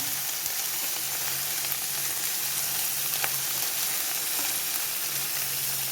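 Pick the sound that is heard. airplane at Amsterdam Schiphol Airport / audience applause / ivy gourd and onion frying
ivy gourd and onion frying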